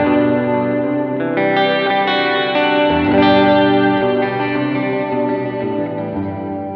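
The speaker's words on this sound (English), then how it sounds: "Plate reverb's nice and bright, very useful for two things." Electric guitar played through a Matthews Effects Astronomer V2 reverb pedal on its bright plate setting, chords ringing with a lush, washy tail that blends each note into the next, continuous and up close with no talking.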